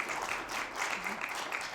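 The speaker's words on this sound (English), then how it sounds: "can we have a massive round of applause for Lidia Giuliano" Conference audience applauding a speaker, Lidia Giuliano, as she walks on stage: a steady, dense wash of clapping from a crowd at moderate distance, with no speech over it.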